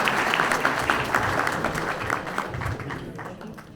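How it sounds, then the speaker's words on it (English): Audience applause at an evening event at a retreat center as a speaker is introduced, a steady dense wash of clapping sustained throughout and slowly tapering off toward the end. "Give a round of applause for that."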